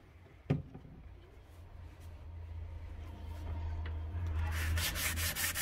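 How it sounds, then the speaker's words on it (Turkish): Steady wet sanding of a PVC door or window frame with sandpaper and cleaner, a close abrasive swish that grows louder and busier toward the end, with one sharp knock near the start. "Bakın zımpara cifi döktük."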